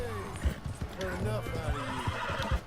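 A horse in Red Dead Redemption 2 whinnies with a rising, wavering neigh over the steady clip-clop of hooves, close and fairly loud, as a voice talks over it.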